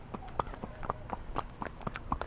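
Horse hooves clip-clop in a steady walking rhythm on a town street while the horse is ponied alongside another horse, moderately close, with faint background noise.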